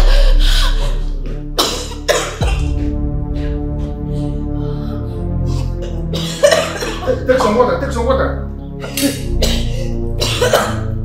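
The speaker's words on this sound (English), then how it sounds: "Why would she suddenly start to cough like this?" A woman in an indoor drama scene coughs repeatedly in loud, harsh bursts spread over several seconds, with people talking between and over the coughs.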